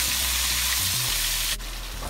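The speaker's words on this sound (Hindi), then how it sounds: "साथ ही हम अपना चिकन भी ऐड कर दें। अब 5 minutes के लिए उसको फ्राई करेंगे।" Chicken pieces frying in oil in a karahi for Pakistani chicken karahi, a steady close sizzle with faint low clinks, running alone without talk.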